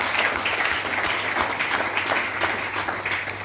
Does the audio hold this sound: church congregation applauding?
yes